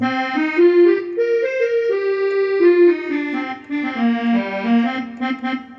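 Korg X5 keyboard accordion tone plays a smooth, wavering melody over held chords, continuous and fairly loud with no voices.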